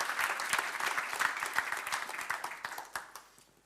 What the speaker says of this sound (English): So can you give a massive round of applause for the Eurometaux President